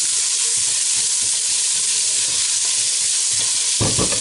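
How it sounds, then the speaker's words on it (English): Softening onions with salt sizzle in a pot while being stirred, a continuous loud frying hiss with faint scrapes of the spoon and a knock near the end; no talking. "Give that a quick stir."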